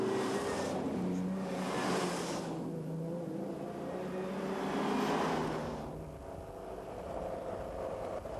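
Three Ferrari 250 GTO cars run together on a country road toward Albi during a classic car rally, their engines a steady, loud roar that swells and eases slightly as they drive on.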